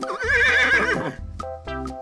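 A horse in a 3D animal video game lets out a loud, close whinny with a wavering pitch, followed by a couple of brief snorts and hoof clops, with no talking over it.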